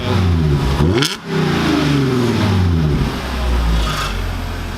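A 2011 Audi S4 with a six-speed manual revs loudly up close, one sharp blip followed by a longer climbing rev and a slow fall back toward a deep idle, with no voices.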